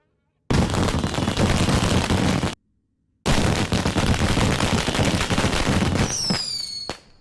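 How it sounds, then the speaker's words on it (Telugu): Firecrackers bursting in a comedy movie scene, a loud dense crackling barrage that runs for two seconds, breaks off briefly, then resumes and fades into a ringing tone at the end. "టపాకాయలు బాబు వెళ్తున్నాయి."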